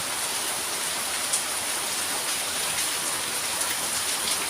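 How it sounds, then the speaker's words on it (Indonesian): A downpour of heavy rain hisses continuously, a thick, even wash of drops striking surfaces close by, with occasional louder splashes and no talk. "Hujan ini besar sekali."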